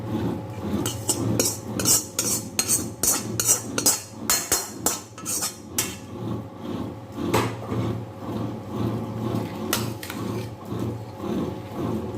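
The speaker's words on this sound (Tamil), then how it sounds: "இப்போது நம்ம புடலங்காய் சாதத்தில் கலந்துக்கணும்" Metal spoon stirring and scraping grated coconut through snake gourd rice in a pan, a close, busy run of clinks and scrapes that thins out after the first half.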